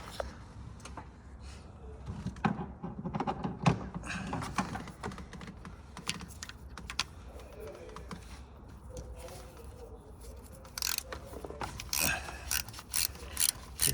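Ratchet with a 7mm socket working a stud loose on a Ford F150 3.7 during alternator replacement: quick clicking pawl bursts and metallic tapping, close up, intermittent with brief pauses.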